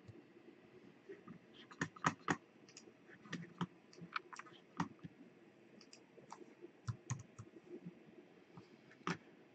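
Computer mouse clicks during cutting and pasting on a computer, a scattered run of quiet, sharp clicks in irregular rhythm, close up with no talk.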